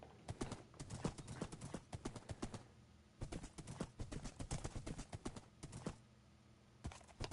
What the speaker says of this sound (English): Let's use one of the horses to get back to the house, actually.